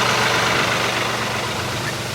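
A tractor engine idles steadily with a low, even rumble while the machine is turned around to couple to a ballast box on its three-point hitch, with no voices.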